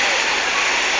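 Floodwater rushing beside a street at night, a loud, steady broadband roar of flowing water heard close up, with no pause across the short stretch.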